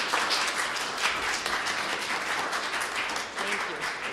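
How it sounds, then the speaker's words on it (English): Audience applause for a conference panel discussion, a steady wash of many hands clapping, moderately distant and sustained throughout. "Let's give a round of applause to our last panel."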